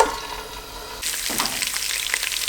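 Ginger garlic hits hot oil for a chicken curry: after a quiet second, a bright, crackling sizzle bursts up close and keeps spitting steadily.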